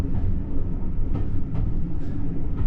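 The Mince Pie Express, a Christmas steam train in Wales, rumbles along steadily and loudly, with faint rhythmic wheel clatter over a dense, continuous low roar and no talking.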